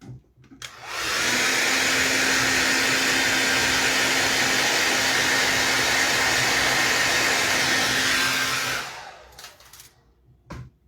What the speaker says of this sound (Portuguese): Vou usar o secador para adiantar.